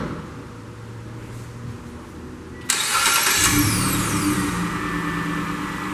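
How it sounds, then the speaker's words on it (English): A 2017 Mitsubishi Outlander GT cranks and fires up with a sudden loud catch partway through, then settles into a steady close idle after a quiet stretch of background hum. "I'll actually walk over and start it up for you"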